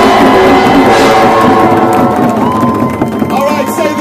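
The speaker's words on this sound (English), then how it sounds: "Now I want to hear a thunderous applause for the south side." A loud crowd at an outdoor march in Chicago marking the anniversary of Martin Luther King, cheering, shouting and whooping together in a sustained roar, with a few voices rising above the mass throughout.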